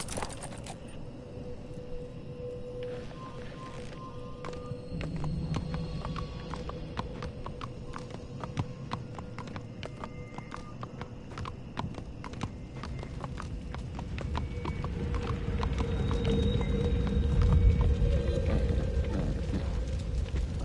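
A ridden horse gallops during a dream sequence in Telltale's The Walking Dead: The Final Season, its repeated hoofbeats running continuously under a droning game score that builds louder toward the end.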